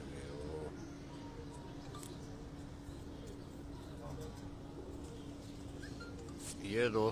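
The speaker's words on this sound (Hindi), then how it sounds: "यूसुफ साहब के 6 कबूतर उनके बैठ चुके हैं और बाकी ये 2 कबूतर भी लैंडिंग पोजीशन में है" Pigeons coo softly near their loft, low and faint beneath steady background hum, with a brief rustle of wings or movement toward the end.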